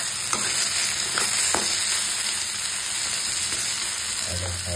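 Steady, close sizzling of fish frying in its own oil, with a few sharp spoon scrapes and clinks against the pan as it is stirred, no talking.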